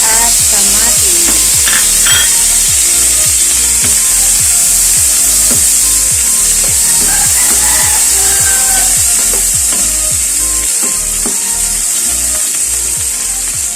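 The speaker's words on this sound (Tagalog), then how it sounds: "ilagay nyo na po ang sibuyas at kamatis." Onions and tomatoes sizzle loudly in a pan with a constant frying hiss for a Filipino home-cooked dish. Regular scraping strokes of a utensil stir through the sizzle, and no one speaks.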